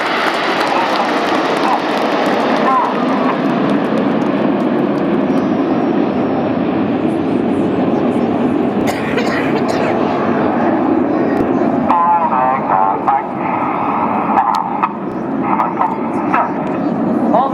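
Red Arrows display jets at the Sunderland airshow sweep past in a loud, sustained roar, with crowd noise and a commentator's voice over the engine sound.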